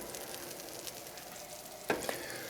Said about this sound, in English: So we're getting this butter nice and melted.